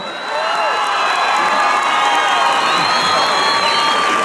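A crowd cheers and whoops continuously, with scattered shouts and clapping blending into a loud, sustained roar.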